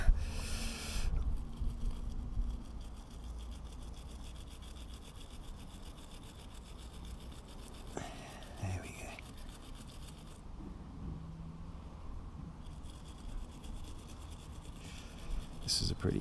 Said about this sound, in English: so you need a good little wire brush